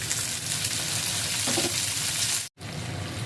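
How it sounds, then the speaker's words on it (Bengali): Pumpkin peel fries in oil in a pan, giving a steady hissing sizzle that is moderately loud and close, briefly cut to silence near the end before resuming. "তেল দিয়ে আবার একটু ভাজা ভাজা করে নেব।"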